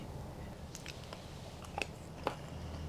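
Someone biting into a chicken fillet with gravy, with a couple of quiet, brief crunching bites over a soft indoor background hush.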